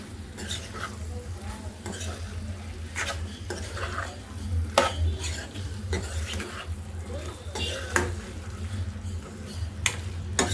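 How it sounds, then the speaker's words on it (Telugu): A spoon stirs capsicum and potato masala gravy in a pan, giving repeated scraping and tapping strokes over a low steady sizzle at close range, with no talking. "సరే బాగా కలుపుకుందాం."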